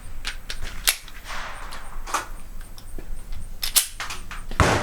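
Ruger SR9c pistol fired with a 10-round magazine, a series of sharp, quick shots at uneven spacing, slightly muffled at a moderate distance, with no talking.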